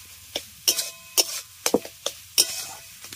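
A spatula scrapes and stirs a food mixture, made with poppy seeds, in a pan, a series of sharp irregular metallic scrapes and clinks spaced close together over a quiet background, no voices.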